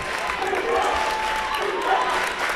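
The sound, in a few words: St. Henry basketball crowd getting loud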